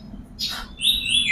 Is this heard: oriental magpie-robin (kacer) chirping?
yes